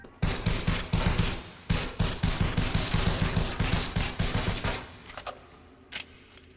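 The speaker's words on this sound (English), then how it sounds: "when I use the starter pistol, a kinetic click click bang weapon, I hear this" A kinetic starter pistol in Elite Dangerous Odyssey fires a long run of rapid, evenly spaced shots, loud and close, each with a sharp mechanical crack. The volley trails off into a few isolated shots at the end.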